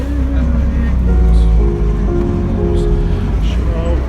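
A Trabant car driving, with a loud, close engine drone and shifting pitch under a steady hum, along with some background noise.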